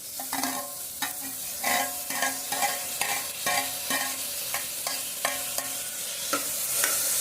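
Browned onions and tomato stirred in a pan over fairly high gas for chicken pulao, with repeated rhythmic spatula scrapes over a soft continuous sizzle and no voices.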